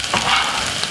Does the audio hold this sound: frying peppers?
yes